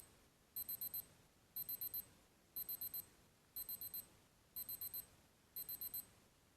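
A Casio G-Shock G-2000 wristwatch countdown timer alarm beeps in six evenly spaced bursts of four rapid high-pitched chirps each, thin and clear against a quiet background.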